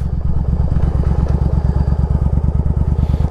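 A Yamaha Virago motorcycle engine runs steadily and close by, its loud, even low-pitched pulsing thump holding smooth with no sputter or misfire throughout.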